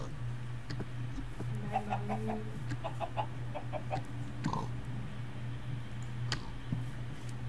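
Chickens in the video game Minecraft Sky Factory 3 cluck in several short bursts over a steady low hum, with faint clicks of keyboard and mouse scattered throughout.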